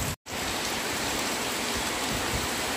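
Heavy rain pours down steadily in Qatar in a dense, continuous hiss, with a brief dropout near the start, then unbroken downpour.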